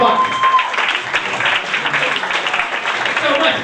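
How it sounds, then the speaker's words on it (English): Applause from a live comedy crowd greeting comedian Boxcar at The Historic Purple Onion in San Francisco, steady clapping with a voice talking over it throughout. "Let's have a lot of love and applause for Boxcar."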